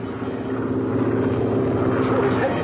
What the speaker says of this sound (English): Sure, it's heading straight for us.